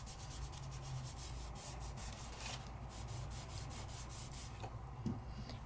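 A finger rubs Sizzix Luster Wax onto a die-cut surface, making a soft, continuous close-up scrubbing friction with a faint tap near the end.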